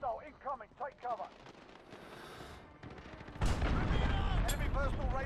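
Cruise missile strike explosions in Modern Warfare multiplayer: a loud, sustained rumbling barrage of blasts and gunfire-like crackle that swells into a dense, heavy roar, with game voice chatter heard in the opening moments.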